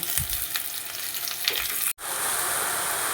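Oil sizzles in a pan with fried onion and garlic, cuts out for an instant, then returns as a louder, fuller crackle as drumstick greens are stirred in.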